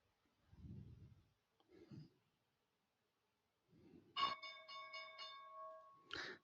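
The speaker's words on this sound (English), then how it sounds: "Bell's going to ring here in about 15 seconds." Stock market opening bell rings loudly once with a sharp strike and a sustained metallic tone lasting about two seconds, following quiet talk and a pause, then a voice resumes.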